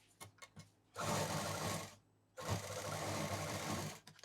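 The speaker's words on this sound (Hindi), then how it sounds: "इसको यहाँ पर हम सिल देंगे।" Sewing machine stitching a zipper onto a party purse: two sustained loud whirring runs, each about a second long, separated by a short pause, preceded by a few faint clicks.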